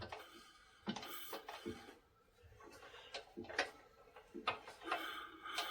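A small Bernard pump set engine is turned over slowly, giving a quiet, rhythmic series of puffing, clicking compression strokes with mechanical rattles between them.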